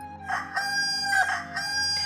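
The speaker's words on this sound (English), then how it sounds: "cried the cockerel in great distress" A rooster crows loudly and close by, its drawn-out cock-a-doodle-doo repeating over a couple of seconds with no talking.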